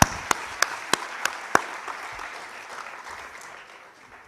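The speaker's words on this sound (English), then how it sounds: "give yourself a big round of applause" Audience at a tech awards event applauding themselves, opening with several sharp, evenly spaced claps before settling into a softer, sustained wash of applause.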